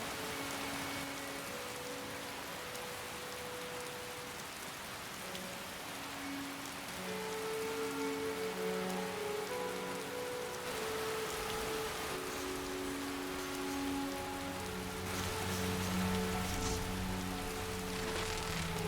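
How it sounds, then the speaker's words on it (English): Steady rain patters on a roof in the Skyrim video game, a continuous soft hiss with scattered drops and faint background music tones, without speech. "I like the rain, the smell of it and the noise it makes on the roof"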